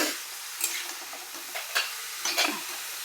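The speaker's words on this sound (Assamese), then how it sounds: "এইবাৰ মই 10 মিনিট মান সময় এনেদৰে ঢাকনি নিদিয়াকে মছলাখিনিৰে সৈতে লৰাই ভাজি লম" Cut moringa drumsticks are stir-fried with spices in an uncovered pan: a soft, constant sizzle with irregular spatula scrapes and clinks against the pan.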